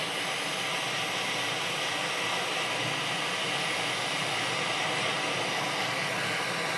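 Steady broadband hiss of a hot air rework tool blowing onto the underside of a faulty PlayStation circuit board while heating it to remove the HDMI port, continuous and fairly loud with no talk.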